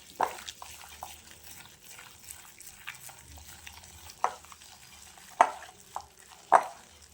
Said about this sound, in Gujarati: હવે સરસ મિક્સ કરી લઈએ.